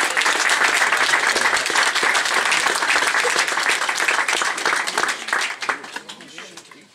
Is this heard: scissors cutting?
no